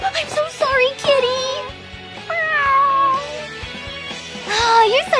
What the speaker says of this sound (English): No way! A cat!